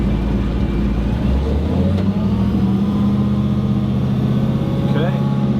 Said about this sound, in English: that rear end's quite noisy at low speeds